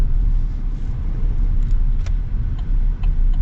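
A four-cylinder engine in a 2025 GMC Sierra 1500 Pro pickup gives a steady low rumble from inside the cab while driving, with faint road noise and no talk.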